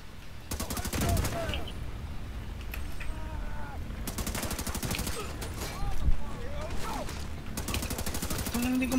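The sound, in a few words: gunfire in video game The Division 2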